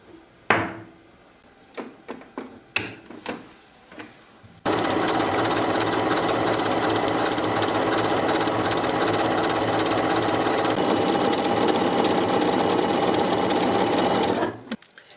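A Skyline S5 domestic sewing machine runs at steady speed for about ten seconds, a loud continuous mechanical whir, preceded by several sharp clicks and knocks as the presser foot is set and changed.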